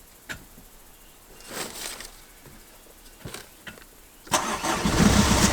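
A vehicle engine cranks after a battery hookup, with a few short clicks and whirring attempts before it catches and settles into a loud, steady running roar close by.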